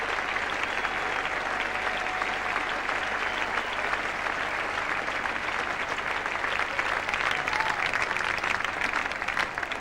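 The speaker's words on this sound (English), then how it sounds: "the crowd rising to Root, and the Australians too, giving him a great hand" A cricket crowd at the 1975 Ashes fourth Test, Australian players included, gives batsman Graham Root sustained, even applause from a distance, filling nearly ten seconds without a break.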